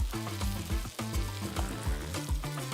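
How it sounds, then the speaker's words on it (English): Floured, egg-dipped chicken frying in hot oil with butter, a close, steady sizzle with bubbling crackles running throughout, alone without talk. "then right into that nice hot oil with butter. Hear that sizzle?"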